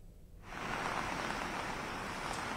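Heavy rain pours down in Bhopal, swelling after a quieter half second into a dense, steady, close wash of hiss.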